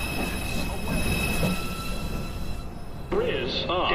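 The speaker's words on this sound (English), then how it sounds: "Approaching the station, please stand away from the platform edge." NYC Subway 2 train pulling into the 207th Street station, a steady rumble of rail cars with high wheel squeal, then sharp squealing brakes near the end, with a voice speaking over it.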